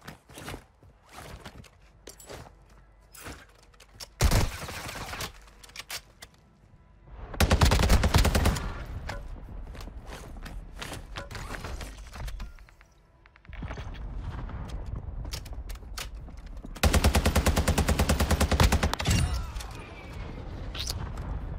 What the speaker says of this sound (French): Avec le stress des balles qui fusent